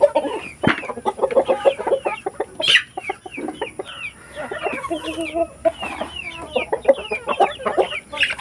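Chickens cluck and chatter busily at close range, overlapping calls rising and falling continuously, with a sharp squawk breaking through now and then.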